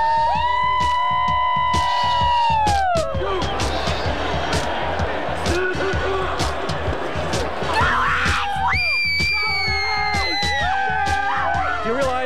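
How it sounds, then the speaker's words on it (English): A woman lets out loud, high, piercing screeches at the start and again near the end, rising above a noisy, cheering crowd with constant talk and shouting. "that screech of hers"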